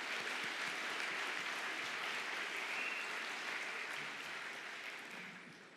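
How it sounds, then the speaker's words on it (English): An audience at the Northern Kentucky University 2019 alumni awards gives the staff a sustained round of applause, a thick, even wash of clapping that tapers off near the end. "please give a big round of applause once again to our staff"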